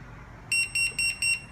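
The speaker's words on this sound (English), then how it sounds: "After 4 beeps, done." An EDA RFID smart cabinet lock, Model 1080E, sounds four short, sharp electronic beeps in an even rhythm, loud and close with nothing else audible.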